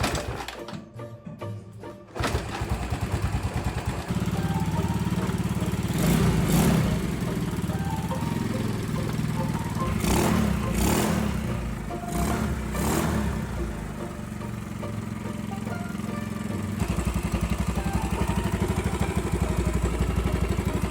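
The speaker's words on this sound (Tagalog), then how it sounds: "sobrang ingay ng makina" A Yamaha Mio scooter engine with a noisy fault runs loudly and continuously close by, a rough, grinding, droning rumble with occasional rattling bursts.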